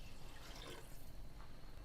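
About 1.5 litres of water is poured into a cooking pot of browned meat for Persian split pea stew, a soft, steady splashing flow, faint and continuous, with no talk.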